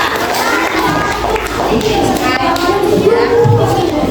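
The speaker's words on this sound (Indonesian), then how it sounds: "Tepuk tangan untuk kelompok 2" Students in a classroom applaud group 2, a dense, continuous patter of clapping hands mixed with children's voices, loud and close throughout.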